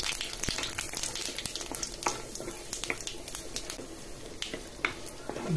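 Bay leaf, whole cumin and whole garam masala sizzle in hot oil in a wok while a spatula stirs them, producing a steady frying hiss broken by frequent scraping clicks and taps, with no talking.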